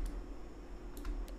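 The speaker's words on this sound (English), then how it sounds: "Press F in the keyboard" A few soft computer keyboard key presses click quietly over a low steady hum, with no talking.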